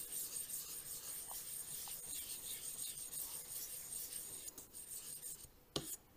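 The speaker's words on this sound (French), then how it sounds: "Là je vais prendre la Nagura, on va nettoyer un petit peu la pierre et puis en même temps on va créer une petite boue." A Nagura stone is rubbed across a wet Suehiro 3000 sharpening whetstone to clean it and raise a slurry, giving a continuous close, gritty rasping that grows more uneven near the end before a single sharp knock.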